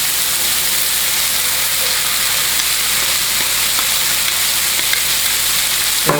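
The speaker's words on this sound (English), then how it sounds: "all you're doing with the veggie is sweating" Seasoned vegetables sweating in a hot pan, giving a loud, dense, even hiss of sizzling that holds steady from start to finish, close up with no voice.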